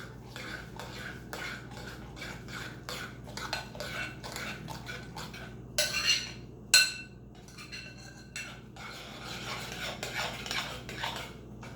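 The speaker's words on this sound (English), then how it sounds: "So we're going to just stir it all up." Spoon clinking and scraping in a bowl while crab cake ingredients are stirred into a mixture, with irregular taps and a couple of louder knocks near the middle over a steady low background hum.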